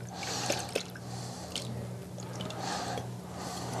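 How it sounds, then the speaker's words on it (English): Cherries are strained in a kitchen, with wet squishing and irregular dripping of liquid close by over a low steady hum, with a few sharper splashes and drips. "So what we're going to have to do is strain the cherries."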